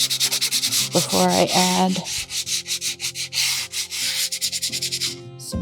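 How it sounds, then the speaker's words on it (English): Light hand sanding of a rustic wooden serving tray, rapid rhythmic back-and-forth scratchy strokes, close and loud, with a brief spoken phrase partway through. "just give it a little bit of a light sand down"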